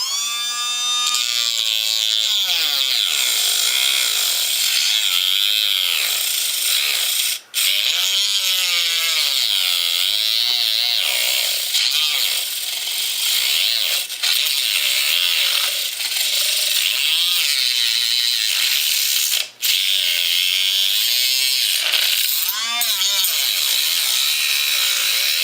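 A power tool whines at high pitch while cutting a piece for a homemade iPod keyboard dock, running loud and nearly continuous, with its pitch wavering under load and two brief pauses.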